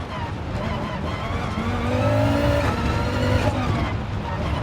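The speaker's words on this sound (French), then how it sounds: "Le turbo se déclenche. Hein. Ah, ça va faire le son du 5 cylindres." Turbocharged five-cylinder rally car engine in Gran Turismo Sport, a steady loud drone with rising and falling tonal revs across the clip, engine pitch climbing then dipping, no talk over it.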